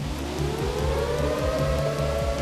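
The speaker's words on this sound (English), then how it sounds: "citizens here in Canada were hearing air raid sirens going off across the border in Washington state" Air raid siren sounding across the border in Washington state during the BC floods, a loud sustained wail rising steadily in pitch with overlapping tones, no voices.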